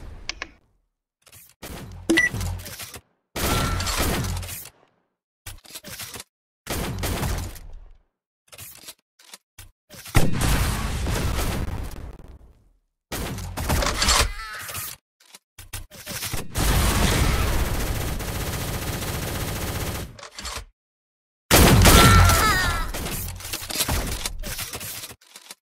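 Rocket launcher fire in the browser shooter Shell Shockers, several loud bursts and blasts separated by short silences, with a long roaring stretch in the middle.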